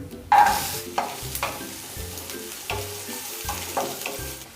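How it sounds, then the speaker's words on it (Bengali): Onions frying in mustard oil in a kadai with whole garam masala and a dried red chilli, a steady close sizzle broken by several sharp stirring scrapes and clinks, with no voices. "পেঁয়াজ অল্প ভাজা হয়ে গেছে"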